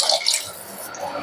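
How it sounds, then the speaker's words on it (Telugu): A brief splash of water is poured into a pot of fish curry, a short, bright rush that quickly fades to a soft trickle. "కొంచెం వాటర్ యాడ్ చేసుకుందాం."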